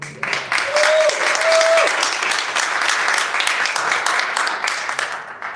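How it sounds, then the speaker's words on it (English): A crowd applauds the Pakistani community at a Pakistan Resolution Day flag-hoisting event, with sustained, even clapping throughout and a brief tonal whistle-like sound early on. "So a big round of applause for my Pakistani community here."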